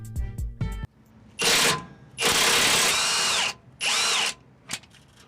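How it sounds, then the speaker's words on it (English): A 19mm socket on a tool loosening a lower control arm bolt on a 2009 Mitsubishi Galant, with several loud bursts of whirring power-tool sound separated by short pauses, no talking. "19mm socket to loosen the bolt."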